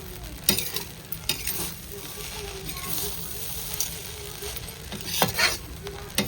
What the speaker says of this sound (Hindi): इसको चलाते चलाते काफ़ी टाइम लग गया था, मतलब इसको काफ़ी भूनना पड़ता है